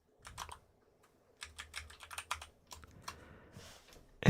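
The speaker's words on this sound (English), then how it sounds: "Oh gosh, it's so much typing." Someone types on a computer keyboard in short irregular bursts of close, crisp key clicks with brief pauses between them, ending in a louder thump.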